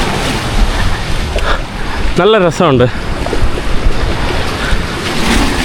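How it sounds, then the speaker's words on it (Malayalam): Sea surf on a beach in Northern Cyprus, a steady broadband wash of waves with wind across the microphone, and someone speaking briefly over it midway. "വെള്ളം ഇങ്ങനെ അടിച്ച് ഇങ്ങോട്ട് കയറുന്നുണ്ട് കേട്ടോ"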